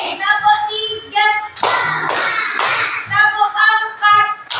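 A few sharp hand claps ring out in the middle of a classroom, surrounded by children's voices chanting a counting clap rhythm before and after.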